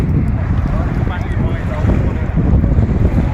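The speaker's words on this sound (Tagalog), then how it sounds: "nakaka-relax yung hampas ng alon" Loud rushing surf at high tide with heavy wind buffeting the microphone, a constant roar of waves at the beach shoreline and some talk blurred underneath.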